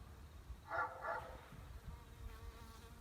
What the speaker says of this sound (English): There's a few bees flying around.